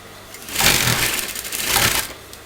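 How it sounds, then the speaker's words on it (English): A sewing machine stitches kurta fabric in two short whirring runs separated by a brief pause, close and moderately loud, with no talk over it. "you're going to sew that together"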